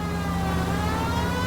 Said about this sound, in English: This is worthy of the fucking siren.